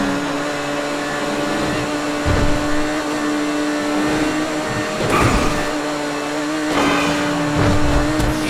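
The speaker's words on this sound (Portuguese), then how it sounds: "Então eu vou dar uma acelerada aqui pra vocês verem." Entity MT supercar in GTA 5 Online accelerating, a steady high engine drone with several surging rises in pitch and loudness, loud and continuous throughout with no talk.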